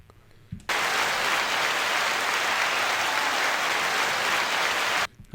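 A crowd bursts into loud, dense applause and cheering that holds steady for about four seconds, then cuts off abruptly.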